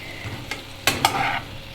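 Pies made with cheese dough and apple filling frying in oil: a steady sizzle with a few sharp scraping or stirring clicks of a utensil against the pan, close and clear.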